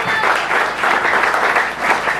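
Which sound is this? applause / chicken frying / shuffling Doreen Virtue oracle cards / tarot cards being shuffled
applause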